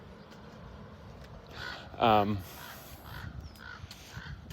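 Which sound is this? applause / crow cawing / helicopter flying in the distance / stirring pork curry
crow cawing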